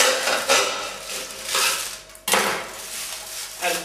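A knife saws through a cooked sausage, pepper and onion sub on a board, with repeated close scraping, crunching strokes and a sharp clack midway.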